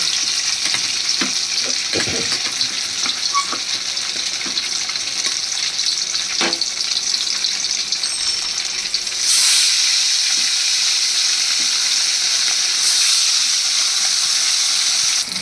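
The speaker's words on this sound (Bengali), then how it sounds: "মাছগুলোকে খুব কড়া করে ভাজবো।" Rohu fish pieces fry crisp in hot oil, a dense, steady, close sizzle with occasional light clatter that swells louder for the last several seconds.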